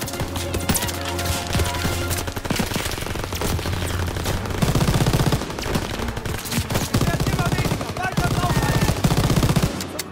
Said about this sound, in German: Nehmen wir die MG hier einmal. Und hauen wir die alle weg.